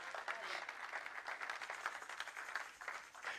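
A church congregation at a Christmas service gives steady, fairly distant applause and acclamation, with cheering voices mixed through the clapping.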